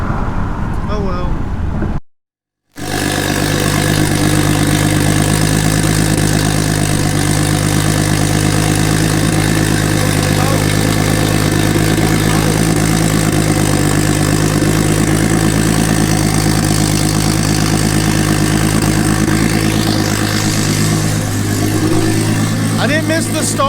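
A tuned Mazda Miata idles loudly nearby with a deep, steady, throbbing drone. It cuts out briefly near the start, then runs continuously and evenly for the rest of the stretch.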